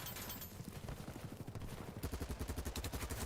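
Scoped gun fired in a Battlefield game, rapid bursts of loud clattering shots, closely spaced at first and then a sharper, more distinct run of rounds in quick succession.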